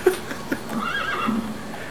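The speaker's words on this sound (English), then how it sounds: "Diamond horse!" A horse whinnies in Metal Gear Solid V: The Phantom Pain, a short rising neigh with a tremolo, fairly close and clear over a low game background.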